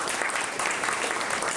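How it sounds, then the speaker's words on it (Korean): Congratulatory applause fills a hall at a disability sports workshop award ceremony as a plaque and flowers are presented, loud dense clapping from a large audience, continuous and even throughout. "축하의 박수를 부탁드립니다"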